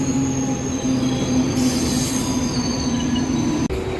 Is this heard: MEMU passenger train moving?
yes